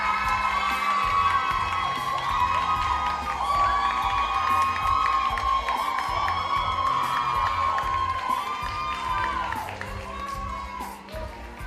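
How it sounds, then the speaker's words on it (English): Audience at a performing arts awards ceremony for national drama finals cheering and applauding loudly and continuously, with whoops and shouts over a steady roar of clapping. "Thank you, Ms. Thomas Campbell, and a big round of applause again for our outstanding directors from the National Drama Finals for 2025."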